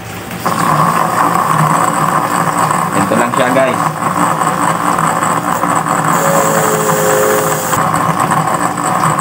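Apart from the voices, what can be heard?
electric motor spinning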